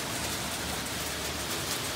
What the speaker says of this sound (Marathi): पाऊस पडतोय बाहेर.